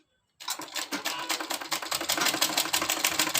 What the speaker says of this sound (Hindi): हम इसके ऊपर से इस तरह से फोल्ड करके सिलाई चला लेंगे इस तरह।